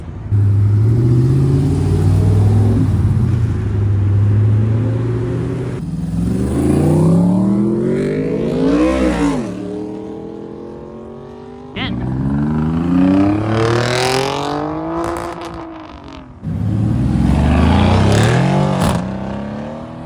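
Ultima RS supercar at a car meet revving hard in repeated rising bursts, loud and close, with engine pitch sweeping up and dropping back between pulls and people talking over it.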